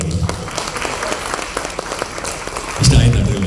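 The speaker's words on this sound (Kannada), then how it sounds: "ಸೊ ಏನೋ ಸ್ವಲ್ಪ ಚಪ್ಪಾಳೆ ಕಮ್ಮಿ ಕೇಳಿಸುತ್ತೆ" An audience at a film trailer launch and press meet claps, scattered hand claps at first building into fuller applause toward the end, fairly close and loud.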